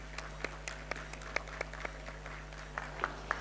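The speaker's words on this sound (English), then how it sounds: "Big round of applause." Sparse audience applause at a tech conference stage event, scattered distinct claps rather than a full ovation, fairly faint over a steady background hum.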